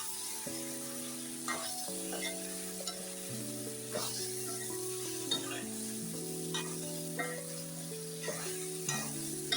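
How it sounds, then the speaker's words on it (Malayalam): Bihar-style chicken curry cooking in mustard oil, stirred in the pot with steady sizzling and frying, spoon scrapes and clinks recurring every second or two; close and continuous with no talking. "ഇനി ഇതെല്ലാം നന്നായിട്ട് ഇളക്കി യോജിപ്പിച്ച് തിളച്ച വെള്ളം നമുക്ക് ഒഴിച്ചു കൊടുക്കാം"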